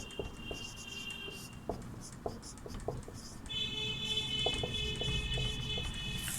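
Pen writing on paper, soft scratchy strokes and light taps in short bursts close by, quiet and with no speech.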